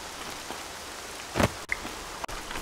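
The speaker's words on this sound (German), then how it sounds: "Der Regen geht mir ein bisschen auf die Eier." Steady rain hisses and patters in Horizon Zero Dawn, a broad wash of falling water with a brief louder splash midway and no talking.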